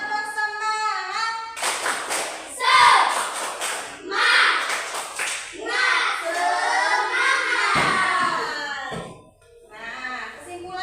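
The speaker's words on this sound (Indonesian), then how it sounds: "kita tepuk semangat, tepuk semangat" Children in a classroom doing a rhythmic spirit clap, loud bursts of patterned clapping mixed with shouting young voices, with a teacher's voice before and between the bursts.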